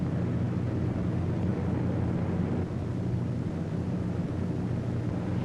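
A formation of eighteen B-17 bombers drones overhead on a wartime bombing run, a dense, unbroken engine roar holding steady throughout.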